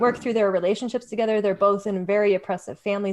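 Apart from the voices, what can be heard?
No everyday noise stands out behind the speech.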